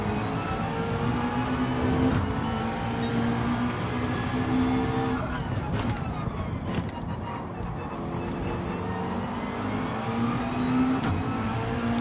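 A Gr.4 race car in Gran Turismo 7 revving hard, its engine note climbing and shifting through gears in a sustained loud drone with a brief dip midway, close and continuous.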